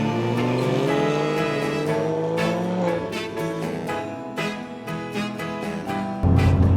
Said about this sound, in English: It makes a huge difference to the noise that comes out the back of this car.